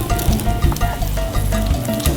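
Loud, crackling sizzle of food frying on a hot buttered pan, steady with bursts of popping throughout and no talking.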